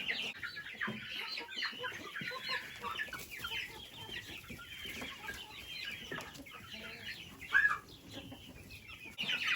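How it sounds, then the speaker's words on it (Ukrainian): Chickens of several breeds cluck steadily in a small group, with scattered chirps and peeps, one louder squawk standing out near the end. "А тут курчата. Різні різні породи."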